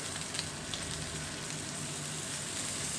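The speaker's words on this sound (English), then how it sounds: "while it's still searing on that side" Bacon-wrapped pork fillet searing in a hot skillet gives a steady, close sizzle and crackle with faint pops, even and continuous throughout, no voices.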